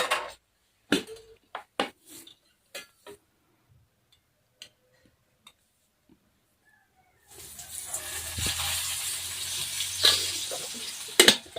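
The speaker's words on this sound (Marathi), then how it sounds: "तेलामध्ये थोडस दोन ते तीन मिनटं छान अजून परतून घेऊ" Green chilies sizzle in hot oil after roasting, a steady close frying hiss that starts partway through with occasional sharp pops; earlier there are scattered soft ticks and knocks in a quiet kitchen.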